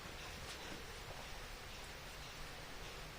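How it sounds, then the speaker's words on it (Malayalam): Steady rain falling outdoors, a faint, even hiss that continues without break and has no voices over it. "മഴയാണ്."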